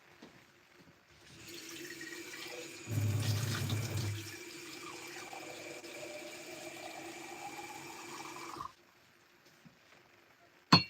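Tap water runs steadily into a painting water pot for about six seconds, a heavier gush near the start settling into an even stream before it cuts off abruptly, with no talk over it.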